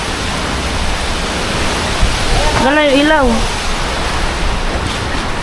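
Strong wind buffets the microphone at a beach with waves washing up near boats, producing a loud, constant roaring rush that swamps everything else, while a voice briefly speaks over it.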